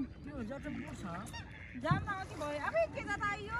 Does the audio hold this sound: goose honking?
yes